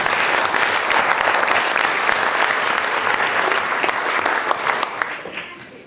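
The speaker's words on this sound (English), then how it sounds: "Let's give Linda a round of applause." Dense applause from a seated audience at a networking event rolls on continuously for several seconds, loud and full without talk, then thins and tapers away at the end.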